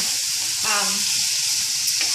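A constant hiss of cabbage stir-frying in a hot pan, with a brief scrape of stirring partway through.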